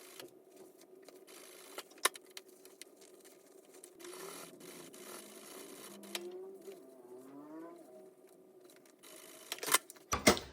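A home sewing machine set to a 3.5 stitch length runs in bursts as it stitches fabric along a pattern line, with clicks and handling noises between runs; no one speaks.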